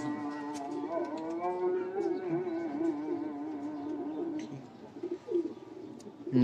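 Crested pigeons coo in a steady, rolling chorus of overlapping low calls, fairly close, with a few louder bursts near the end and no talk.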